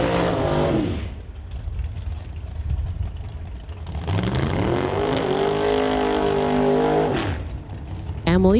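An 88 Chevy S10 drag racing at an NHRA Summit ET Series event roars through rising engine pitch, with a strained revving drone that climbs, drops, then climbs again under a track announcer's voice.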